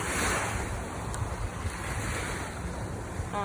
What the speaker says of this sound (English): Tide is coming in right now, I think. Yeah, coming in still.